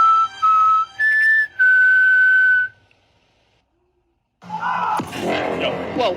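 Several sharp human whistles ring out in short bursts, the last one long and held, before a brief silence and then a noisy burst of movement and commotion.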